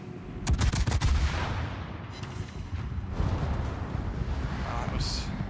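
Heavy ship broadside guns firing in the video game World of Warships: a loud, deep cluster of booms at the start, then rolling rumble and distant blasts, with a voice speaking over it.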